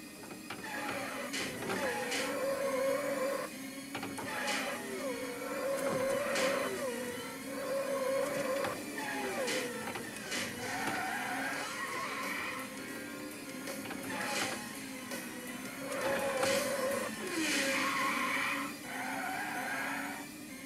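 Virtua Racing arcade game runs under MAME with force feedback, its engine whine rising and falling in repeated bursts amid mechanical whirring and buzzing, fairly close, with sharp rattling thumps marking each surge.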